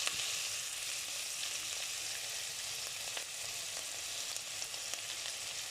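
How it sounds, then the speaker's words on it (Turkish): Steady crackling sizzle of red and green peppers frying in melted fat, continuous and close, with occasional small pops and no talking. "Yağım eridikten sonra bu şekilde önce biberlerimi koyuyorum."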